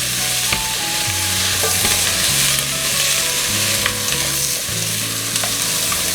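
Yellow onions stir-fry in a pan over high heat with a loud, dense sizzle, while the clatter of stirring and scraping repeats throughout.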